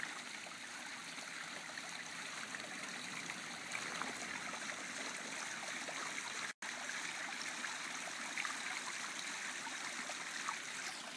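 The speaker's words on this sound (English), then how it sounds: "Beautiful waterfall." Steady rushing and trickling water from a front-yard garden waterfall, a continuous even flow at close range with no voices over it.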